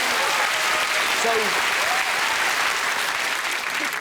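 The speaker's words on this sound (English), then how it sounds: "That's worth a round of applause." A studio audience at a comedy news show applauds in a dense, sustained clatter of clapping that fills the whole stretch, with a voice briefly breaking in over it.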